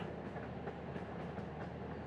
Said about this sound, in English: There is a little railway. They call it a miniature railway.